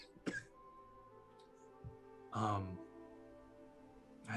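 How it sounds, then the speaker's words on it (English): A woman coughs in short, faint bursts, a quick one near the start and a longer, heavier fit midway, with a final cough at the end and quiet breathing between. "And she starts coughing."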